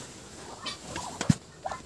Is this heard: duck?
yes